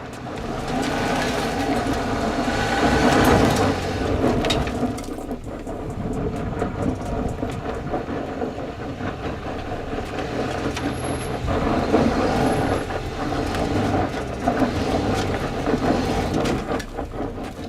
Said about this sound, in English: The Nissan couldn't drive out of it smoothly and rolled back to change the line.